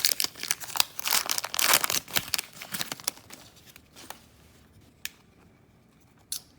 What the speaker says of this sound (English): Open the other side of the pack. See if we can open this and not ruin the cards.